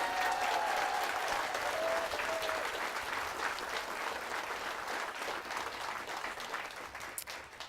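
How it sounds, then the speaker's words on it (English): An audience at a Veterans Day ceremony claps in sustained, loud applause that fills the space and slowly tapers toward the end. "Let's give them a huge round of applause."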